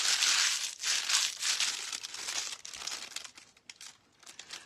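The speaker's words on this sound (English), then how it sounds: "We're going to crumple this up." Foil being crumpled into a ball by hand, a run of crisp crackling and crinkling bursts, close and fairly quiet, fading toward the end.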